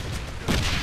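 A grenade explodes in the Wolfenstein video game, a single heavy boom landing midway after rumbling gunfire, loud and close.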